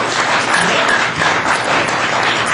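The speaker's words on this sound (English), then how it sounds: "Could we hear a little applause?" A live audience at the Ground Zero Lounge applauds, dense continuous clapping at even loudness with no break, sounding like a crowd in a room rather than a few people.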